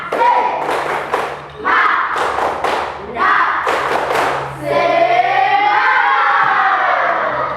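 A classroom of children performs the rhythmic 'tepuk semangat' spirit clap, several loud bursts of clapping and thumping with shouted voices, then a sustained cheer.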